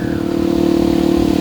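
A Yamaha WR155 motorcycle with an aftermarket exhaust runs loud and close, its engine holding a steady, throaty drone with a rapid pulsing beat throughout.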